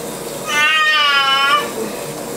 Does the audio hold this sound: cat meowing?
yes